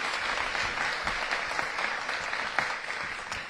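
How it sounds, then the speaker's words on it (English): An audience at a ribbon cutting for the Studio Theatre in Washington, D.C. claps steadily, a fairly faint, even patter of many hands that lasts throughout. "So give David and Studio a big round of applause."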